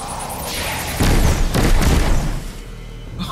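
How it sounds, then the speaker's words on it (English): Grenade blasts in the video game Destiny 2, a cluster of deep booming bursts rolling together for a couple of seconds at close range, with no one talking over them. "Is that my fucking grenades?"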